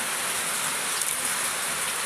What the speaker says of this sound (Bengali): অনেক সুন্দরভাবে বৃষ্টি পড়তেছে